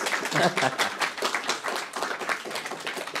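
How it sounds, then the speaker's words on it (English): One person claps alone at a conversation event, a steady run of single distinct claps repeating evenly for a few seconds, moderately close and fairly soft. "Solitary applause."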